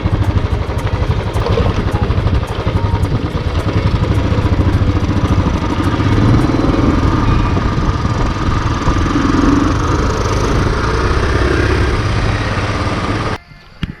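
Motorcycle engine idling near a stadium during an Independence Day parade, a steady low rumbling drone with faint clatter that runs nearly the whole time before cutting off near the end.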